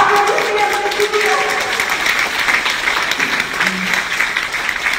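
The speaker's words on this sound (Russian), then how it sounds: "Аплодисменты тебе" Audience applause at a presentation for a gold ambassador, sustained clapping from a crowd with some voices mixed in.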